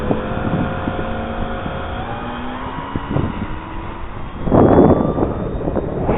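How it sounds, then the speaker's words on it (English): Wind gusting to 10–15 mph buffets the microphone outdoors in uneven gusts, with a steady engine hum of a Dynam FW190 model plane beneath and a louder rushing surge near the end. "Gusting winds up to 12 to 15."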